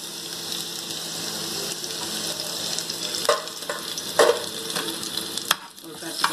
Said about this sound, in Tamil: ஒரு கட்டு கட்டிடுங்க, கொஞ்சம் ப்ரௌனாக வரட்டும் பூண்டு.